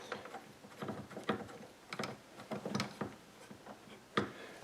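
A screwdriver drives a screw into a wax trimmer adaptor assembly, giving close, irregular ratcheting clicks and scraping twists in short bursts with brief pauses between turns.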